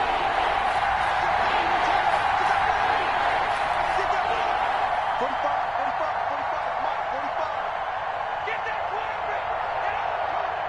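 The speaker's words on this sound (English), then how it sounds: "The crowd getting into it as we come up on a big 3rd down." A stadium crowd roars in a steady, sustained wash in an American football video game ahead of a big third down, with a broadcast commentator talking over it throughout.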